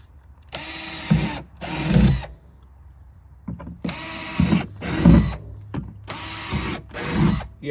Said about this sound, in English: get you a drill bit and you flip them over and drill you some holes in the bottom